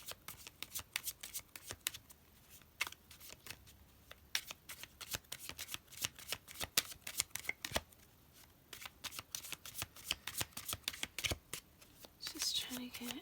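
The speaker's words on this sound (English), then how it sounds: "You can feel free to skip through the shuffling if you'd like." Tarot cards being shuffled by hand in a long run of rapid, crisp riffling bursts and soft slaps, close and steady, with a brief pause and a final flurry at the end.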